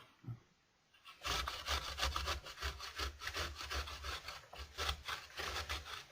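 Ginger being grated by hand for spiced homemade cider: steady, rhythmic rasping strokes, close and fairly quiet, running continuously after a brief pause.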